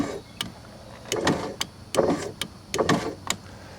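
A bound-up power window motor in a 1995 Ford Crown Victoria LX whirs and strains in four or five short, struggling bursts with small clicks between them, fairly faint and close, with no voices.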